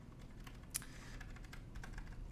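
Mechanical keyboard with Cherry ML linear switches and no keycaps being typed on, producing a faint, quick patter of soft keystrokes with one slightly sharper click near the start.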